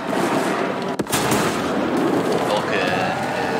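Artillery and gunfire in the tank combat game War Thunder make a loud, continuous battle roar, with one sharp blast standing out early on.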